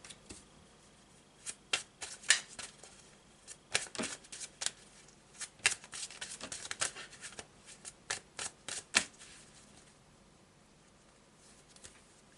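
Tarot cards shuffled and drawn by hand, a run of crisp riffling snaps and flicks in irregular bursts, close and fairly quiet, fading to near silence at the end with no talking.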